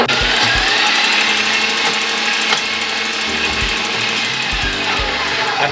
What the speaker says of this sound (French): Dans le bol, on met les blancs, on monte et la machine, on l'allume. Et on y va à fond pour environ 5 minutes.